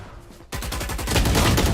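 Rapid bursts of gunfire from the Valorant video game during a varsity esports match, a dense run of repeated shots starting abruptly and growing louder, with no talk over it.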